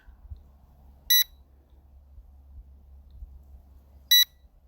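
Two identical short electronic beeps from an L200 Pro Max drone, about three seconds apart, each clear and sharp above a steady low rumble.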